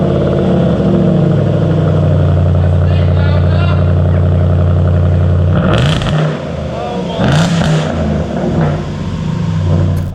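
A Jaguar XFR's 500 bhp engine drones steadily and loudly through its exhaust, shifting in tone partway through as the revs change.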